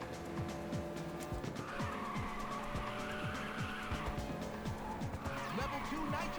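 Race car drifting in the video game Ridge Racer 2: a steady engine drone with repeated sharp tire squeals and skids, under game music and effects.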